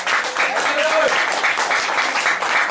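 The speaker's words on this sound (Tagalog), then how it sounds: "Lahat ng binigyan ng pagkakataon, pumalakpak." Congregation clapping at a church sermon, a dense, steady wash of applause filling the whole stretch, with voices mixed in underneath.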